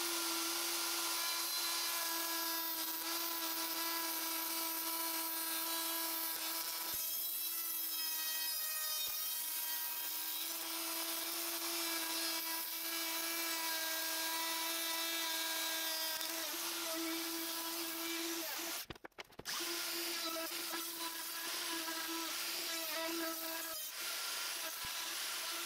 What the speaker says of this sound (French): là on va attaquer avec la défonceuse